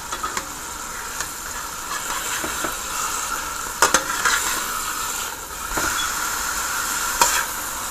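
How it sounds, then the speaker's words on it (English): Chicken breast sizzles steadily in a hot pan, a continuous crackling hiss broken by a few sharper pops and light stirring clatter, with no talk. "I just wanted to get a little brown, then I'll be putting it in the oven"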